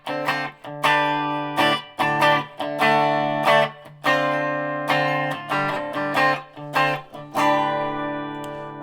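Fender Telecaster electric guitar played through an Orange amp with reverb, a series of strummed chords ringing out in a steady rhythm with short gaps between, clear and close with no talking.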